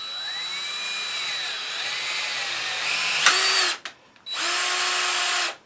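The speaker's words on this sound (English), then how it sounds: "now I've switched over to the 3/16 rivet machine, and I'll just slide it over top" A 3/16 rivet tool sets a rivet in a tripod shoe, giving a pneumatic whirring drone that rises in pitch, cuts off sharply, then resumes in a second loud burst, close up with no talk.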